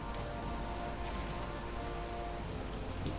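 Night rain falls in the Valheim video game near the Mistlands, a soft, steady hiss of rain on surfaces, faint and continuous, with no other sounds over it.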